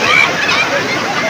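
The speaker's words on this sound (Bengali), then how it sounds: "আমরা ঢেউ দেখুন বন্ধুরা" Sea waves breaking at Digha beach, a loud continuous wash of surf heard close with a voice speaking over it.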